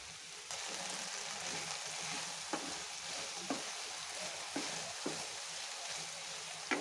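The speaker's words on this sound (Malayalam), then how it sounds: "നമുക്ക് തോരനൊന്ന് ഇളക്കി കൊടുക്കാം" Okra thoran stir-frying in a pan, a steady broadband sizzle with a handful of sharp spatula scrapes and clicks spaced through it, close and fairly quiet, no voices.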